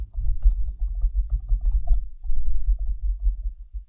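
Someone types on a computer keyboard in quick, irregular clusters of close, crisp clicks, with a low steady hum underneath and no talking.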